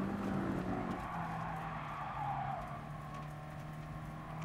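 Video game engine noise from a Peugeot in a GT Sport race at dusk, a steady droning hum that holds at an even level throughout with a faint whine riding on top.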